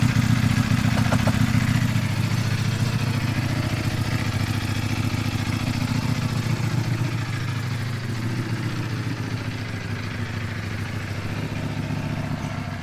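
A 2021 Ducati Panigale V4 engine with stock exhaust idles with a steady, low rumble that holds throughout, close and fairly loud, with no one speaking.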